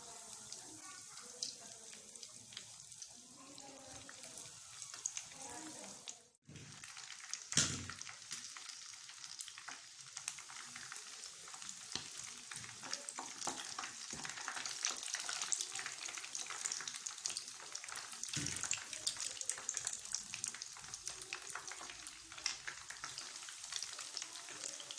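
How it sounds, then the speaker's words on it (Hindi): Chicken leg pieces fry in hot oil with a continuous bubbling sizzle that swells louder toward the end, broken by a couple of sharp clatters near the start; nobody speaks. "ये अल्हम्दुलिल्लाह बहुत अच्छे से फ्राई हो रहा है।"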